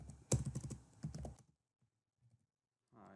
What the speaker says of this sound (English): I'm going to start here by typing in